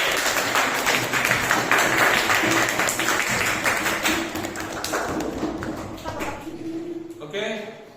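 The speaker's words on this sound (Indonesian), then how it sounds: "kasih tepuk tangan" Classroom applause after student group presentations, a dense patter of many hands clapping at close range that gradually thins out and fades toward the end.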